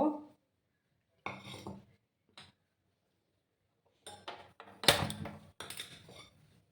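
A metal pan is set onto a gas stove, producing a few separate bursts of clanking and knocking with quiet gaps between them, close and fairly loud.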